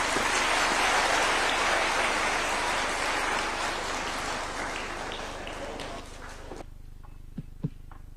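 Loud, dense applause from a large crowd at Kenya's Katiba Day 2025 constitution event, following a presidential speech, fading gradually over several seconds to a few scattered claps at the end.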